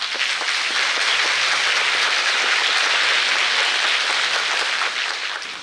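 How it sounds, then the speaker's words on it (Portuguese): An audience breaks into loud, dense applause, a continuous wash of many hands clapping that holds steady for several seconds before tapering slightly at the end. "Eu quero uma salva de palmas."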